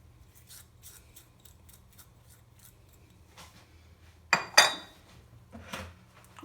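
Extra fine semolina and sugar being mixed for makrout, soft scraping and rubbing in a bowl, with two louder clinks of a utensil near the end, no speech.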